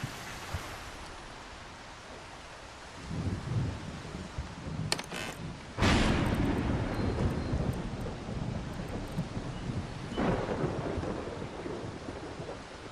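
Thunder and lightning storm in a survival video game on an island, with heavy rain hiss throughout and loud thunder cracks near five and six seconds, then rolling rumble and another crash around ten seconds.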